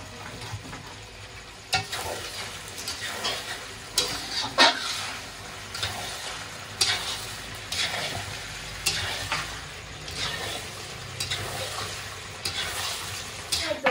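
Meat with whole garlic cloves sizzling in a pan while being stirred, a steady fry hiss broken by repeated scraping clicks of the spoon, close and moderately loud.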